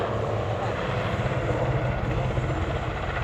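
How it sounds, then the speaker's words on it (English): A large Super Puma helicopter banks through a tight turn at an airshow display, its rotor sending out a loud, continuous, pulsing thrum that holds steady and close for the whole stretch, with faint talk mixed in. "in a tight turn, and you hear the aerodynamic forces acting on the rotor"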